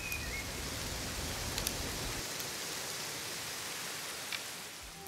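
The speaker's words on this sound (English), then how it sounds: "the wind is getting heavier and the rain is getting heavier too" Heavier rain and wind played as feedback by a Muse meditation headband, a dense, steady hiss of rainfall with a low rumble that thins partway through, occasional faint drips, no voices.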